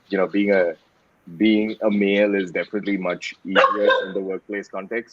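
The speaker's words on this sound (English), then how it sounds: "You can hear my dog in the background" A pet dog barks intermittently in the background at home, mostly beneath a person speaking continuously in a conversational tone.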